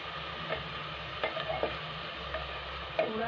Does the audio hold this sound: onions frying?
yes